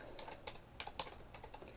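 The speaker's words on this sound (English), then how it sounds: "Oh, yes, typing." Quick, uneven clatter of keys on a computer keyboard, close and fairly quiet, with bursts of keystrokes and short pauses between them.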